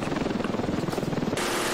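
A helicopter in the video game Ravenfield makes a loud, steady rotor chop with rapid rhythmic thumping, close and continuous before a sudden shift into a broad rushing noise near the end.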